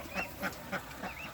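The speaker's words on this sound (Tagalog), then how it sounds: "mga bibi naman yan" Faint duckling quacks come in about four short, evenly spaced calls, heard at a distance with no talking.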